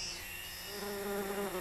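Flies buzzing around a large Rafflesia flower on the tropical rainforest floor, a continuous close insect drone with shifting pitch, steady and moderately loud, no voices.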